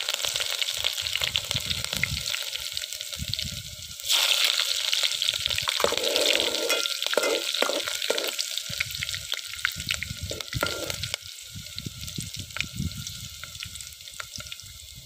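Cumin seeds and pieces of medium green chili sizzling in hot oil for an eggplant dish, a close, busy crackle with bursts of spitting and stirring that swells partway through and stays lively to the end.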